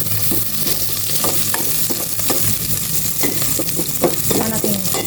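Onions are sautéed in a pan, with a loud, crackling sizzle broken by repeated scraping strokes of a spatula stirring them, close and alone without speech.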